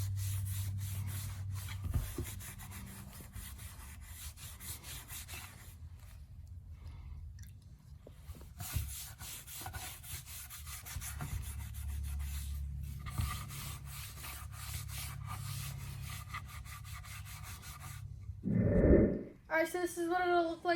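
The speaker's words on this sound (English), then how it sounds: "The back, you're just going to sand it." Sandpaper rubbing over the back of reclaimed pallet wood, a steady scratchy hiss running continuously at close range, with a brief louder scuff near the end.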